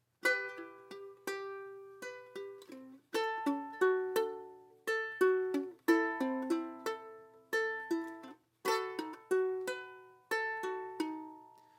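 Plucked ukulele notes picked in a steady, bright pattern, each note ringing briefly before the next, played alone and close.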